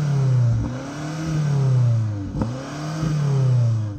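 A BMW X6M engine revs hard at a drag race in repeated rising and falling sweeps, climbing to a limiter before dropping back, loud and close with no talk over it.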